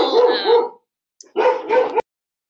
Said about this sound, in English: I've got a dog that's barking.